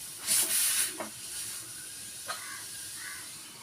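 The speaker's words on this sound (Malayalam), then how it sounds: "അപ്പം ഇത് ആവി വന്നിട്ടുണ്ട്" Steam hisses from a puttu steamer cooking kappa puttu (tapioca puttu), a loud close burst of hiss at the start that fades into a softer steady hiss with a few light knocks, alone.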